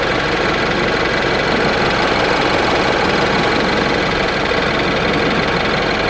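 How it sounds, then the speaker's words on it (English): Petrol engine of a Mini Cooper S R56, idling with a rough, clattery diesel-like knock, steady and close throughout, with no talking over it. "Here's a sound clip of the engine noise."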